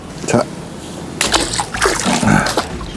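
A freshly caught fish dropped into water at a fishing pond in autumn, giving a short splash and then sloshing and splattering close by, with someone talking over it.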